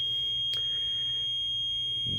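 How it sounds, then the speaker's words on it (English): A homemade ghost-hunting spirit stick's motion sensor alarm sounds a steady, shrill electronic tone that holds throughout, broken by a sharp click partway and a low thump at the end; no one speaks. "Waiting for that annoying beep to just stop beeping."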